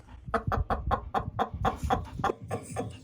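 A stray hen clucks repeatedly in a quick, steady series of short, close calls, with a low rumbling background underneath.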